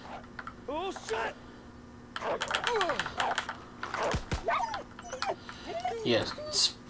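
A dog in the Call of Duty: WWII campaign barks and snarls in repeated bursts, mixed with rapid keyboard clicks and someone talking over the game audio.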